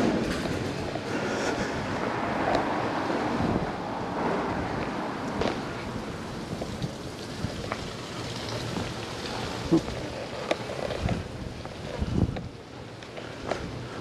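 Gusty wind at Sunny Beach, Bulgaria buffets the microphone in a broad, rough roar, with scattered knocks and rustles rising through it.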